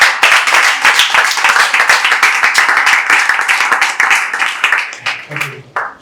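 A classroom of students clapping for a classmate, dense continuous applause of many hands, loud and close, breaking off into a brief voice at the end.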